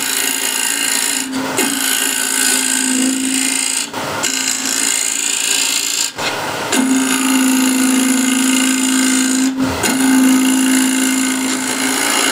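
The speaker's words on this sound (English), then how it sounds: "And I can use a scraper for that." A scraper cuts a plastic workpiece turning on a small lathe, giving a loud continuous rasping whir broken by three brief pauses, with a steady motor tone underneath.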